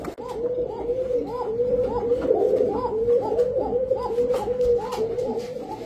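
Pakistani pigeons coo in a steady, repeating rhythm, several soft throaty calls close by with light background noise and no talking.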